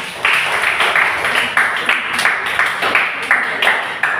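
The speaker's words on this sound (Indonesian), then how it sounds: "Berikan aplaus dulu untuk kelompok 2" Classroom applause for a student group, a steady clatter of many hands clapping together for several seconds, close and fairly loud.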